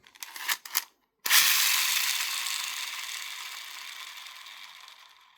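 A Beyblade X winder launcher ratchets sharply as it is wound in a few quick bursts, then goes quiet before a spinning top whirs on steadily and fades slowly, close and fairly loud.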